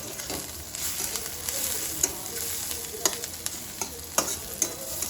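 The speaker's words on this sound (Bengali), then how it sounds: "পেঁয়াজটার একটু ভাজা ভাজা হয়ে যাক" Onion frying in a pan for a curry of small fish with spiny gourd, a dense continuous sizzle up close with periodic louder crackles and spoon-stirring clicks, no voices.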